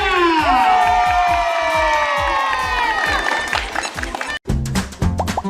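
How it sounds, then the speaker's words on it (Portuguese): A large crowd shouts and cheers loudly and continuously, with children's shrill voices and whoops rising over the roar, then a brief pause before the cheering picks up again. "Olha o grito da galera!"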